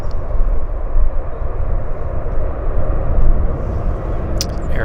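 An Air Canada A321 airliner taxis out at Vancouver Airport, its engines a loud, steady, close rumble throughout with no voices.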